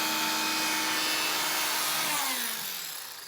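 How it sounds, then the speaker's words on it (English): Electric fabric saw cutting through single or double layer fabric, a loud steady motor whine that drops in pitch and fades as it winds down near the end. "how the saw works just on single or double layer fabric"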